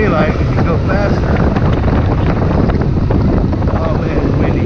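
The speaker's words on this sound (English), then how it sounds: "Oh man, it's windy." Heavy wind buffets the microphone in a constant roaring rumble on an abandoned bridge in El Salvador at night, with a voice faintly underneath.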